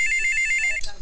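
A telephone rings after a call is placed in a comedic scene. A steady electronic ringing tone plays loud and close for most of the second, then cuts off into a brief noisy rustle.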